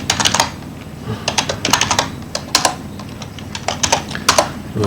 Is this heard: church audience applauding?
no